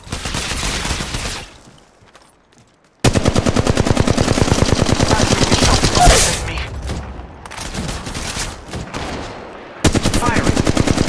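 Rapid automatic gunfire in the battle royale game Apex Legends Mobile, loud dense bursts of shots that drop out briefly for a near-silent gap, then resume in long sustained volleys with a few short pauses.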